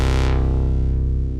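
Access synth plugin played from a Novation Launchkey MK4 keyboard, its filter cutoff swept by the controller's pots: a loud, buzzy sustained tone with rich harmonics whose bright top end closes off early as the filter sweeps down.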